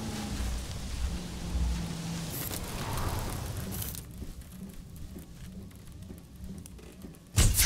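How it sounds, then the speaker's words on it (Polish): A thunderstorm with steady rain in the dinosaur park game Jurassic World Evolution, a continuous hiss of rainfall with low rumbling thunder underneath and a sudden loud crack near the end. "Jeszcze burzy mi brakowało."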